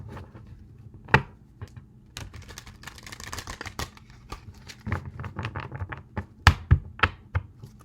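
Tarot cards are shuffled by hand, a run of crisp close taps and riffling flutters with sharp irregular clicks, quiet room, no talk.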